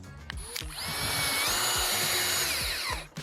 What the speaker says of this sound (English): we're just gonna put some temporary screws in for now